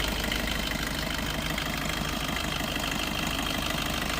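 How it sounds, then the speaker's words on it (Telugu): A steady, rumbling 2019 Maruti Dzire VDi diesel car engine idles continuously at close range, with a low even drone and no voices. "ఇంజిన్ సౌండ్ అయితే బాగుంటుంది మనకి ఎటువంటి నాయిస్ కానీ ఏం రావట్లేదు"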